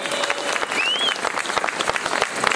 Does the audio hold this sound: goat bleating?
no